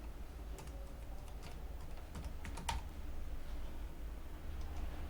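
Typing on a computer keyboard while entering text in Photoshop, a run of quick, light key clicks at close range in irregular bursts over a quiet low hum.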